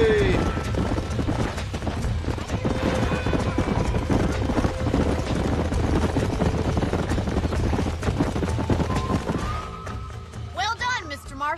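Steady clip-clop of horse hooves trotting in the video game Red Dead Redemption, many hooves overlapping in a busy rhythm, with a brief whinny near the end.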